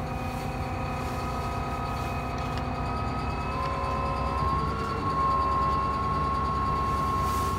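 A tractor pulling a planter through a field, a steady low mechanical drone with a constant whine heard from inside the cab, fairly faint and even throughout, with no speech.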